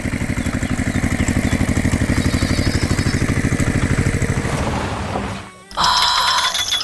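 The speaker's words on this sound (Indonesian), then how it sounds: "Suara mesinnya menggelegar, siap mengumpulkan hasil panen yang segar" A red cartoon tractor's engine roars with a loud, steady chugging rumble that drops away briefly near the end, then gives way to a brighter mechanical tone, with no talking.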